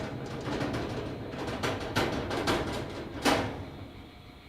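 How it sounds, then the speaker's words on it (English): Breaker shutters close during a CBS ArcSafe remote racking operation on switchgear. A few soft metallic clunks and slides sound over a steady room hum at moderate distance. "You can hear the shutters closing right now."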